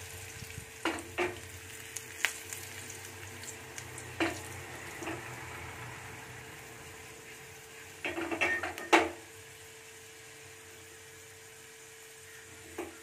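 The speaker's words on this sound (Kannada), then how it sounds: "ಸೊ ಈಗ ಕರಿಬೇವು ಆ್ಯಡ್ ಮಾಡೋಣ ಅದಕ್ಕೆ" Faint, quiet sizzle of curry leaves frying in hot oil for drumstick sambar, a soft steady crackle broken by a few sharp pops and a brief louder burst of spitting partway through.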